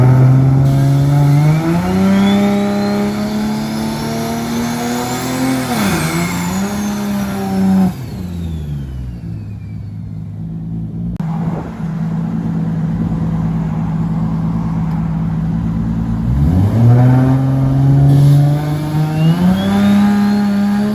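A TH400-swapped Nissan R32 Skyline GT-R engine revs up loud and close, climbing in pitch, easing off, then pulling hard again as it accelerates, with no voices over the engine.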